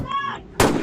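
A sharp, loud gunshot-like burst from Rainbow Friends played with a guns mod, cutting in after a brief tonal game sound and ringing briefly.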